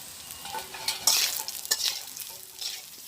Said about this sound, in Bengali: কচুটা সুন্দর করে ভাজি করে নামাই নেব।